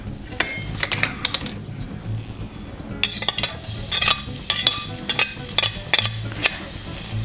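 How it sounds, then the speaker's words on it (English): Garlic sizzles very lightly in a pan over low heat for a mushroom pasta, a faint crackle under sharp utensil clinks and stirring scrapes that come in irregular bursts. "there's a very, very light sizzle of the garlic there"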